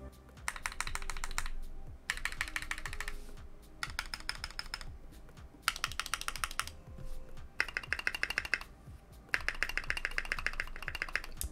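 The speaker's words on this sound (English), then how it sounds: "the second thing I noticed was that the stabilizers were really good" A Keychron Q3 TKL keyboard with factory-lubed stabilizers is typed on in bursts of quick, clacky keystrokes, with short pauses between the runs and thuddy stabilized keys in the mix.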